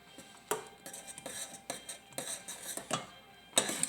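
Strawberry jam stirred in a pot, a spoon tapping and scraping against the sides in a loose series of quiet clinks, close and fairly faint, with a sharper knock near the end.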